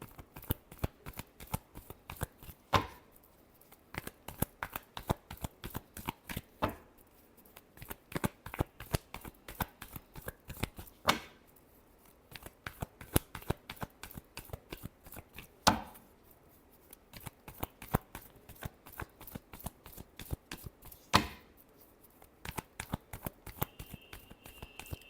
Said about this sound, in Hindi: लास्ट शफल, चलिए देखते हैं।